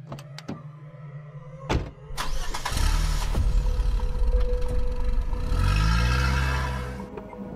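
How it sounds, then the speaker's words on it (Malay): A car engine starts outside an apartment block's parking area, then revs and pulls away, a rising engine drone building after a few sharp clicks and thuds, fairly close and loud with no talk. "Kereta dipandu jauh dari kawasan Pangsapuri tersebut."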